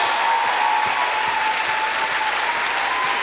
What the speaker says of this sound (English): Let's give Valerie a big round of applause here for your courage